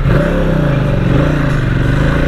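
A Ducati XDiavel motorcycle pulls away under acceleration, its loud, close engine growling with a rising, pulsing pitch through the whole short burst.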